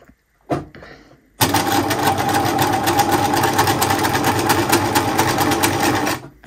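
Sewing machine stitching steadily after a short start-up burst, a loud, close, continuous mechanical whirr with rapid needle rhythm running for about five seconds with the thread tension slightly off.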